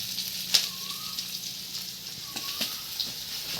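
Ginger, garlic and onion frying in a pan, a soft steady sizzle with a few sharp clinks of a spoon on the pan, close and fairly quiet.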